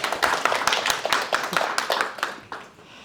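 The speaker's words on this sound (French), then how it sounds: "on peut encore l'applaudir." An audience at a lecture applauds a speaker, a dense run of close hand claps that thins and fades out over about three seconds.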